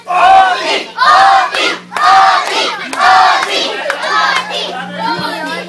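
A crowd of audience members shouts "OT" repeatedly in loud, rhythmic bursts, about five chanted calls in a row with a constant low hum underneath.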